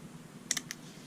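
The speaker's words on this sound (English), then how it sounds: "if you click it to the bottom, it ratchets the other way" Three quick, crisp clicks from a Victorinox SportRatchet Swiss Army tool's ratchet, two close together and a third just after, each sharp and brief against a quiet background.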